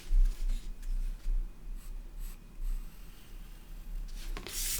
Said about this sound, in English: I'm doing the pencil line around it.